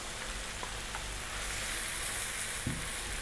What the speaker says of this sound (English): work our noodles in, fry them around for about another 5 minutes or so